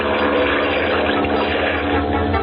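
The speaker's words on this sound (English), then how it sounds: "By superhuman efforts and great skill, Lieutenant Commander Bauer tried for a takeoff." A propeller aircraft flown by a naval lieutenant commander strains into a takeoff, a dense, steady roar with a washy, water-like hiss, loud and unbroken throughout, with no voices.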